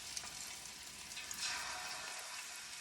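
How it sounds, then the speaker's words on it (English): Fish steaks, wahoo and yellowtail tuna, searing in hot oil with toasted garlic and a piece of hot pepper, giving a steady broadband sizzle with a few faint crackles. "So I'm going to now sear this fish"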